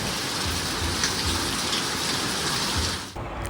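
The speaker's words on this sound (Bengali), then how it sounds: "বাইরেও বৃষ্টি ঘরেও বৃষ্টি কারণ বাইরেও জল পড়ছে ঘরেও জল পড়ছে" Heavy rain pours down in a steady, dense hiss, loud and close, with a brief dip near the end.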